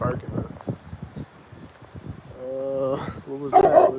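An outdoor dog barks, first faintly among scattered talking, then in a louder, closer burst near the end, with voices continuing around it.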